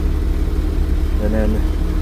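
A rare prototype International Harvester tractor engine idles with a loud, steady low rumble, and a voice is heard briefly over it.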